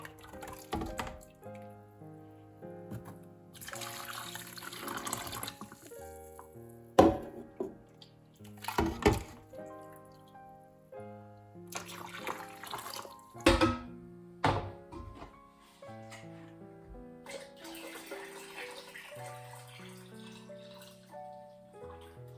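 Hot mash water at about 72.6 degrees poured into a home-brewing vat, a splashing, gushing flow broken by several hollow thunks and knocks as equipment is handled, with quieter dripping gaps between, close by.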